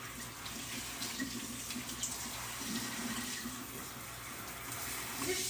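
Tie-dyed fabric being wrung and rinsed under a steadily running tap, the water splashing continuously into a sink with soft shifting surges as the cloth moves.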